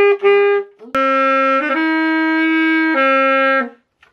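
Saxophone plays a short phrase of Amazing Grace, a few sustained notes with clear pitch steps and one brief breathy attack, loud and solo before fading out.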